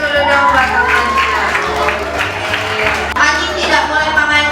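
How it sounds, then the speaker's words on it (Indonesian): Classroom of children applauding their classmates during an animal welfare and rabies awareness session, a steady burst of clapping and crowd noise with voices mixed in throughout. "Beri tepuk tangan dulu dong buat teman-teman"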